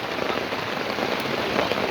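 Steady rain pattering on a surface, a dense continuous hiss of drops close by with no voices.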